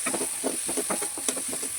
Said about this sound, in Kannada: ನೀರುಳ್ಳಿ ಮತ್ತು ಟೊಮೆಟೊವನ್ನು ಚೆನ್ನಾಗಿ ಫ್ರೈ ಮಾಡ್ತಾ ಇದ್ದೇನೆ